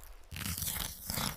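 Someone bites into crunchy honey-glazed chicken katsu, giving a close, loud crackling crunch followed by a few chewing crunches, with no talking.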